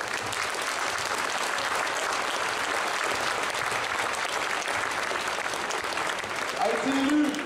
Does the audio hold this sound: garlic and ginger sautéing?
no